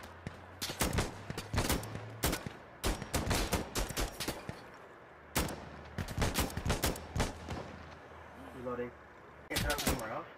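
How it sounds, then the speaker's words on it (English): Gunfire in the video game Insurgency Sandstorm: repeated sharp bursts of rifle and automatic fire, some rapid clusters and some single cracks, loud and close, with brief gaps between volleys. "we're being shot from like"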